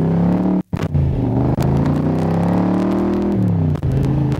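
A 1965 Shelby Cobra replica, a Superformance MkII, rumbles loudly through its exhaust pipes while driving, with a steady deep engine drone, a brief drop near the start, then rising and falling revs.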